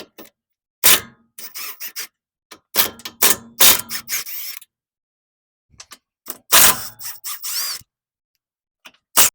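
Ratchet working 14 mm strut bolts loose on a Toyota FJ, Tacoma or 4Runner front suspension, close bursts of rapid metallic clicking in short runs separated by silent pauses.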